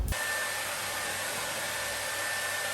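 A Panasonic Nanocare EH-NA0G hair dryer drying hair blows a steady, loud whooshing roar with a thin whine, starting abruptly and running unbroken throughout.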